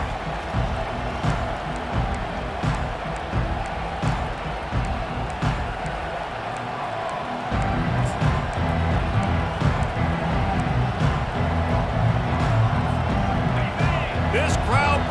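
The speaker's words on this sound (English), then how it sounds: "This crowd bringing the energy and noise early." Stadium crowd in EA Sports College Football 25, a constant roar of cheering fans that swells louder midway through, with commentators talking over it throughout.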